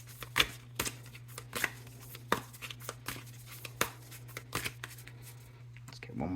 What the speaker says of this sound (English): Let's get one more good shuffle in.